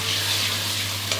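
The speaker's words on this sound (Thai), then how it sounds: "ผักกับเห็ดนี่ใช้เวลาผัดแป๊บเดียวก็สุกแล้วครับ" Vegetables and mushrooms stir-fried over high heat, a steady loud sizzle with a low hum underneath and one brief scrape of the spatula near the end.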